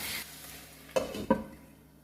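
Two chopped tomatoes frying in a pan for a Kerala-style prawn roast, with a low sizzle under two quick stirring scrapes close by.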